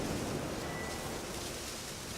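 Steady rain, likely with wind, falls in The Witcher 3 played on Deathmarch difficulty, an even dense hiss filling the short stretch with no voices.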